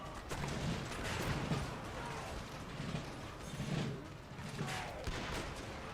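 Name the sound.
musket gunfire in a video game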